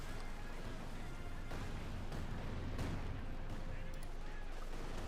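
Artillery barrage from a Land Mattress rocket launcher in the World War II strategy game Company of Heroes 2, a dense continuous rumble of distant blasts and gunfire filling the battlefield mix at a steady, moderate level.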